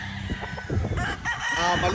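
A lean, long-bodied fighting rooster crows nearby, a loud stretched call rising and falling, with clucking from other fowl around it.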